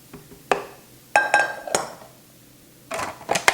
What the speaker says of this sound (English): So now I'll drop the dough into the food processor.